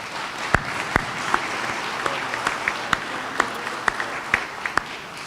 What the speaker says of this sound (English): Let's give this family a round of applause.